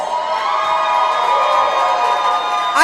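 A live fight-night crowd cheers and shouts steadily and loudly throughout, with children's shouts and whoops rising from the dense wash of voices.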